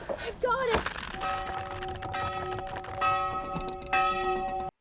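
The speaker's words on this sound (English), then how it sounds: "Warning bell." A warning bell in a Rings of Power episode clangs several times, each strike ringing out with a long, bright metallic hum that lingers and overlaps the next, loud and close, with a final strike cut off abruptly.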